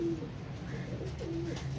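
Soft, low pigeon cooing, two throaty coos a moment apart, faint against a quiet background.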